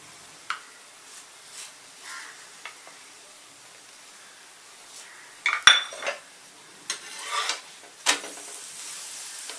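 A sesame-jaggery poli roasts on a pan and is turned again and again, giving quiet scattered clinks and scrapes of a utensil against metal over a faint sizzle, with one sharp knock near the middle.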